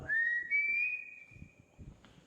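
A single long, steady whistled tone rises slightly and holds for over a second, fairly clear, with faint low rumbling underneath.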